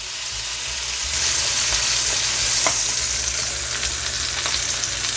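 Rib eye steak searing in a hot pan as its fat renders: a loud, steady sizzle close by, holding for the whole stretch, with a few faint clicks but no talk.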